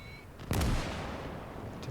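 A cannon in the Gates of Hell real-time strategy game fires once with a sharp, loud blast and a rumbling decay, followed by a fainter shot at the very end.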